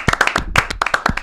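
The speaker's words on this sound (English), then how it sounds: "Round of applause for all of you today." Close, loud clapping from a few pairs of hands, sharp uneven claps in quick succession at the end of a football talk show.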